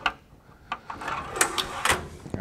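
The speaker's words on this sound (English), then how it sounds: "Push the drawer slides in." A toolbox drawer slid shut along its metal drawer slides, giving a short run of close rattling clicks and scraping clunks over about two seconds, with no talk.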